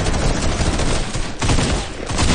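Rapid bursts of gunfire in Fortnite during a competitive duo finals match, loud and dense shots in quick succession with a brief gap midway, then firing resumes with no talk over it.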